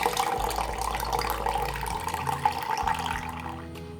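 Milk, a cup and a half of it, pours steadily into a sweetened egg pudding mixture, making a continuous liquid splashing and trickling that runs for several seconds before tapering off.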